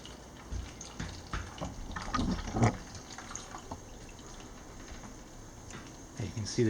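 Liquid from a home-brewed peach kettle sour flows through a metal filter during transfer, a soft, steady watery trickle with a few louder splashing surges and faint background voices.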